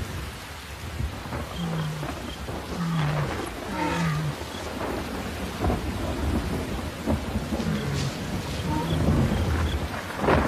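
Rolling thunder over open grassland as a storm approaches, low rumbles building and fading across the stretch with a rain-like hiss and deep growling animal calls mixed in.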